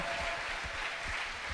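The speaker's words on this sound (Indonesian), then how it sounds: "Sekali lagi berikan tepuk tangan yang meriah buat Tuhan kita yang ajaib." A church congregation at a year-end thanksgiving service claps together in a dense, steady wash of applause, heard briefly and fairly evenly throughout.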